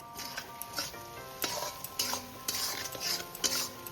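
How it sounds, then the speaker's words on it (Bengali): Spice masala sautéing in a pan for a vegetarian chickpea dish, a soft continuous sizzle broken by repeated close scraping and clinking of a spoon against the pan. "এবার আমি ভালো করে মশলাটাকে একটু কষিয়ে নেব"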